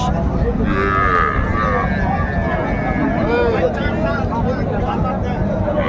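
A young dairy cow, sold with her calf, lows in the background while several people talk over it at a crowded cattle market in Raniganj, Dinajpur, with steady crowd chatter throughout.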